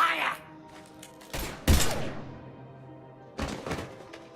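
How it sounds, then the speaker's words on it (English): Gunfire bursts out in the video game Mass Effect 3, with several loud, sharp shots and thuds spread across a few seconds. Quiet stretches fall between the bursts, and brief voices can be heard. "Now open fire!"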